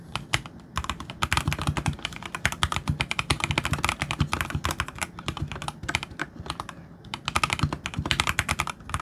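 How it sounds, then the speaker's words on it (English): Steady, rapid keystrokes on a Mountain Everest 60 mechanical keyboard with linear switches, a dense run of soft clacks without clicky snaps, close up and continuous with no talking. "let's do a keystroke test to see what these switches sound like"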